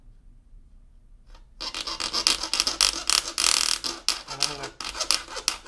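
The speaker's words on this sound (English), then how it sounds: "hacksaw" A hacksaw cuts a small V notch for a homemade pottery foot tool: after a quiet start, rapid close rasping strokes repeat in an uneven back-and-forth rhythm.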